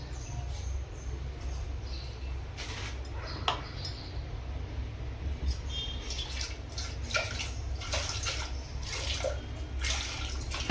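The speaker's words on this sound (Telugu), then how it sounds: "వాటర్లో కడగాలి, వాటర్లో వేయాక" Vegetables rinsed in a basin of water: steady splashing and sloshing, with occasional drips and light clinks over a low background hum.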